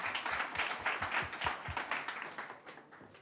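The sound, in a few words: audience applause for panelists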